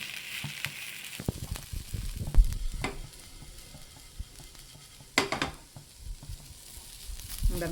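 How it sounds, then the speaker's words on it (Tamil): Raw plantain slices roast in a pan, giving a soft steady sizzle broken by scraping, clattering stirs of a spoon against the pan at irregular intervals, close and clear with no talking. "இந்த மாதிரி அப்பப்போ கலரி விட்டுனே இருங்க அப்போ தான் எல்லா பக்கமும் வந்து ரோஸ்ட் ஆகி வரும்"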